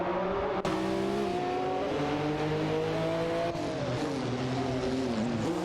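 Race cars in a racing video game drone and rev together, a steady loud engine whine shifting pitch as they accelerate and hold speed, with a brief tire squeal, no voices.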